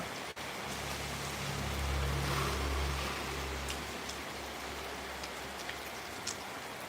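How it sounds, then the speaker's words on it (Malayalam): Steady rain pours down in a continuous hiss, with a low rumbling hum underneath and a few scattered drips standing out. "ഇന്ന് മഴ മാറുന്ന ലക്ഷണമൊന്നുമില്ല"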